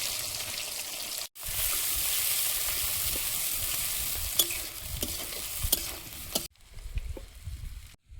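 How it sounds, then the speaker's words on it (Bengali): Chicken pieces sizzle loudly in hot oil left from frying potatoes, with whole garam masala and two dried red chillies. A steady close hiss runs throughout, with stirring scrapes and brief breaks in the sizzle. "আলু ভাজার তেলেই মাংসটা বসিয়ে দেবো, গোটা গরম মশলা আর দুটো শুকনো লঙ্কা।"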